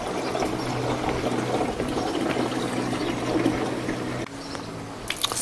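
Water gushes steadily from an RV water valve into a 5-gallon bucket, a continuous churning splash that shifts in tone near the end.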